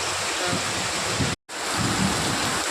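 Heavy monsoon rain falls in a steady, loud wash of hiss and drumming, broken by a brief moment of silence partway through, with no voices.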